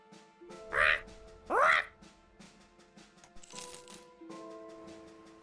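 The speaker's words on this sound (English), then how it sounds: "The bird rotates on her shoulder and squawks at you." Two loud, harsh bird squawks from the Wartime Wingmen video game, each about half a second, followed by lighter clinking and tonal game effects.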